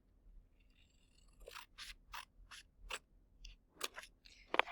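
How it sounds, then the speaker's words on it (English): Scissors cut paper in a quiet classroom-style setting, giving a series of about ten close, crisp snipping strokes at a steady rhythm, faint overall with a sharper final snip. "now we're done with the scissors for a few minutes"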